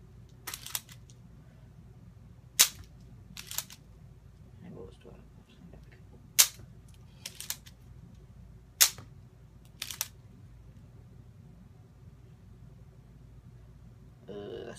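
A K'nex war pistol V2 toy gun fires a series of sharp, snappy clicks spaced a second or so apart, close and fairly loud over a quiet background, with a few softer handling clicks between shots.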